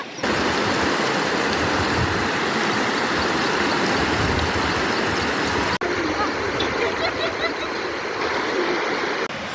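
A jungle river flowing just after a crossing on foot, a loud, close, continuous rushing wash of water that stays steady throughout with a momentary dip partway.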